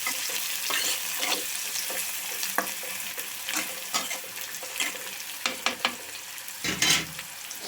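Beans stirred and fried in a pan while making egg semiya, a steady sizzle broken by repeated scraping and clanking strokes of a spoon, close up with no speech.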